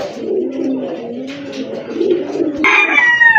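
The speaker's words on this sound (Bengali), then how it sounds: "সিরাজি কবুতর একটা মাদি" Low, throaty cooing of a female Sirazi pigeon in repeated rolling phrases, close and loud, with a brighter rustle or flutter joining toward the end.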